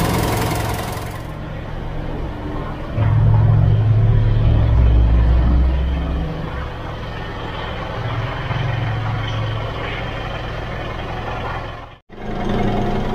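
Car with a recently cleaned turbo being driven on the road, with a steady low engine rumble that swells to a louder drone for a few seconds before settling back, ending with a brief dip.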